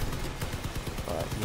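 Rapid machine-gun fire from the vehicle combat video game Crossout rattles in a quick, loud, continuous burst, with someone talking over it.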